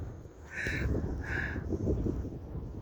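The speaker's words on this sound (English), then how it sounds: "we get the seagulls" Two harsh, nasal seagull calls sound in a row over steady outdoor background noise, moderately distant.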